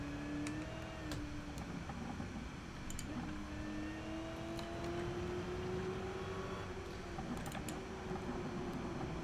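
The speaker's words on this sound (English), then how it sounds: "you can probably hear the big whine of the supercharger spooling up" Supercharger on a Ferrari Dino in Gran Turismo 7 whining as it spools up, a thin rising tone over a steady engine drone, faint and continuous through a time-trial run.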